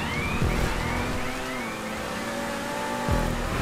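Race car engines droning steadily in GTA 5 Online, several RE7Bs and a custom X80 running together, with a sustained pitch that slowly shifts and two brief louder swells as cars pass close by.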